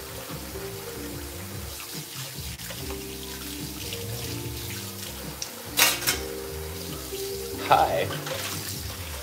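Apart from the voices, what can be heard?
running water while cleaning up at the kitchen sink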